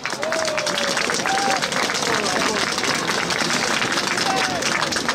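An outdoor crowd claps and cheers at the 2023 launch of the Christmas illuminations in Sens, a loud, continuous burst of applause with a few voices calling out over the clapping.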